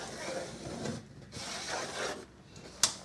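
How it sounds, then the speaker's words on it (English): A pencil scrapes a level line across a wall in a bathroom remodel, giving close, soft rubbing strokes in short bursts with brief pauses and a sharp little tap near the end. "just going to draw a line here. Make sure it's level."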